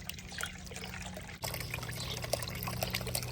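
Water runs through a gold sluice with a steady rushing trickle, a brief dip and then a stronger, fuller flow, and a low hum sits underneath.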